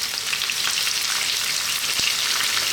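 Onion and garlic with a little salt fry steadily in a pan, a dense, even sizzle with no pauses or voices, and a single faint tap near the end.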